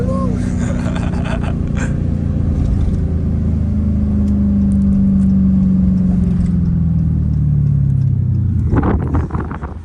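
A 707 hp Hellcat sliding through a corner on a city street, its engine a loud, continuous deep roar whose pitch sweeps downward, then a rising rev at the end, with voices faintly under the noise.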